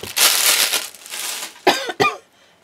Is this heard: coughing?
yes